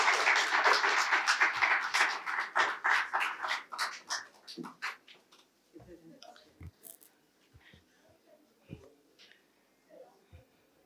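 Applause from an audience at a Republic Day of Türkiye ceremony at a university in Karachi, loud clapping for the first few seconds that thins into scattered claps and fades out, with faint voices beneath.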